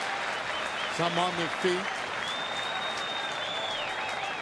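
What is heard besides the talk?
baseball crowd applauding in the stadium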